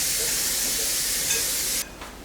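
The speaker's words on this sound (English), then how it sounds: "I'm gonna give my potatoes a rinse" Tap water runs steadily over potatoes being rinsed for an Easter dinner, a close broadband hiss that stops abruptly near the end, leaving quiet room tone.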